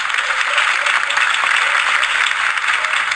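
Crowd applause after a campaign speech in the video game Batman: The Telltale Series, a dense steady wash of many hands clapping that stays loud and even throughout without a break.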